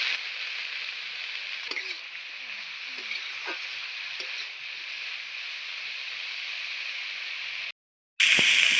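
Whole spices fry in oil in a pan for a coconut flower curry, giving a steady close sizzle with a few light clinks of a spoon stirring, before a brief cut and a louder burst of sizzling.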